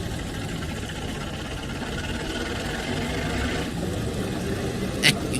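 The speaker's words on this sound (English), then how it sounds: "You can hear those engines gear up there" Train engines in the video game Trainz 2019 hold a steady, heavy drone throughout, a constant low roar with a brief louder burst near the end.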